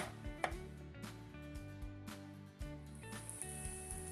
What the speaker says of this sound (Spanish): la pulpa la vamos a picar toda chiquitita porque también se la vamos a mezclar al relleno